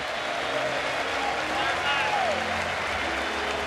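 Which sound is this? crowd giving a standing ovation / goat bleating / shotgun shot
crowd giving a standing ovation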